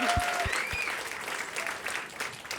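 Crowd at a female founder afternoon event applauding everyone, steady mid-level clapping from many hands with brief faint voices near the start, heard alone without talk.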